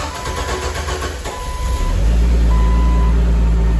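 A Jeep TJ engine cranks and catches, settling into a loud, steady idle with a high whine over the low rumble.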